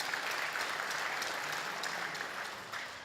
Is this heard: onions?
no